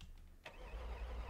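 A car engine cranks and catches in the BeamNG.Drive driving game, a brief starter whirr followed by a low, steady idle rumble, heard alone and fairly quiet.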